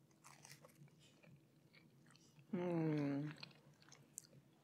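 A single crisp bite into a Greek almond-filled phyllo flute, a short crackly crunch of buttery pastry up close, heard alone against a quiet room.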